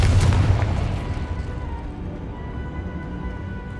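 A Confringo spell explosion in Hogwarts Legacy, one loud booming blast at the start that rolls off into a long rumbling decay.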